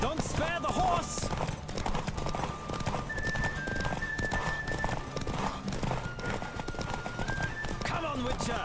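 Horse hooves clip-clop at a gallop in The Witcher 3: Wild Hunt, with neighing under game music and steady racing noise, loud and continuous throughout.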